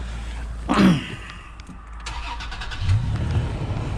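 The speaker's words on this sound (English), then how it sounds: "let's start the truck up and see if that makes a difference" A Toyota Tacoma pickup truck engine starts nearby: a brief cranking burst, a short lull, then the engine catches and settles into a steady low idle.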